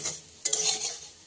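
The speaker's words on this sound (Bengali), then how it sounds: "যে আমার আলু ভাজাটা হয়ে গেছে" Potato slices fry in hot oil in a home kitchen while a utensil scrapes and stirs them, a bright steady sizzle with a clatter of stirring midway, close and alone.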